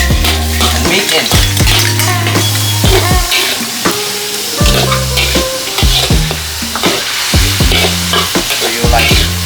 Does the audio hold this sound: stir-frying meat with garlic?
yes